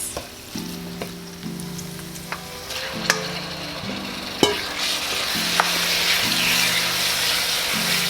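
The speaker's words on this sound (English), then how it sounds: "Immediately, when that garlic hit this hot skillet" Fresh garlic sizzles loudly in a hot skillet with marinated sun-dried tomatoes, a steady bright frying hiss broken by sharp spatter pops and occasional stirring knocks, with a faint background hum throughout.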